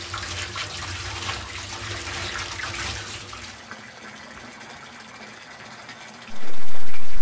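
Water runs steadily from a tap while a water container is cleaned out, a rushing splashy flow that softens partway through and then gives way to a sudden louder burst near the end.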